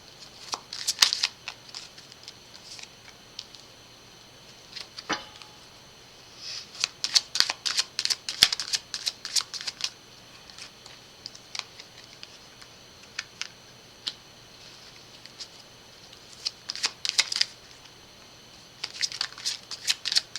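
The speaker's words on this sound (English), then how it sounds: "If you don't like the shuffling, you can always just fast forward" Tarot cards are shuffled by hand in repeated quick bursts of crisp riffling and flicking, close up, separated by short quiet pauses.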